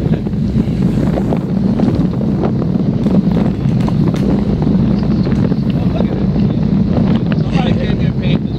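Strong gusting wind buffets the microphone during an outdoor group bicycle ride heading north near New Waverly, Texas, a steady loud roar throughout with people talking underneath.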